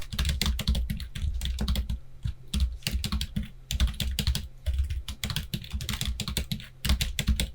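Rapid typing on a computer keyboard while entering spreadsheet data, close and crisp, with bursts of clattering keystrokes broken by brief pauses and no voices.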